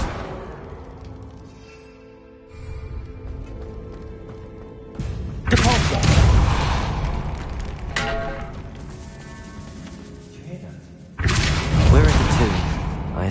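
A Depulso spell blasts a stack of oddly placed bones beside an archway in a Harry Potter game, giving loud booming thumps and whooshing bursts in two heavy waves over a low ambient bed.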